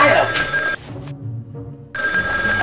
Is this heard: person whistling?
no